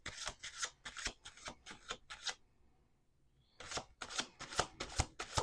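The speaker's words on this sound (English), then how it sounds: "I just wanted to make sure that I was shuffling them right side up." A deck of playing cards shuffled in quick riffling bursts, crisp and close, with a short pause midway before the shuffling resumes; no talking.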